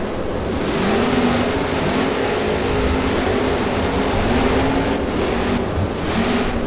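Gravedigger monster trucks racing in a BeamNG video game at a Monster Jam Boneyard Bash event, a steady loud engine roar with revving that continues without a break, alone with no talking.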